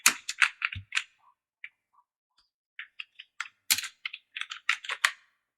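Keys clatter on a computer keyboard while entering a formula in an MS Excel sheet, quick bursts of close, crisp clicks separated by short pauses, with no talking over them.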